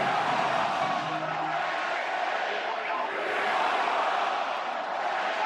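Stadium crowd roars steadily at a college football game between Oregon and Penn State, a dense, constant wash of noise with faint voices mixed in, loud and unbroken throughout.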